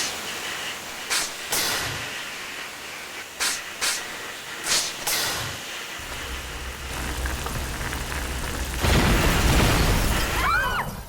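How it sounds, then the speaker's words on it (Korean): A sprinkler sound effect bursts into a sustained hissing spray, following a few sharp thumps, the spray growing louder and denser toward the end. "작동되어버린 스프링클러."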